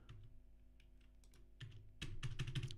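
Rapid clicking of computer keyboard keys in an uneven typing rhythm, close and fairly quiet at first, then louder and denser toward the end.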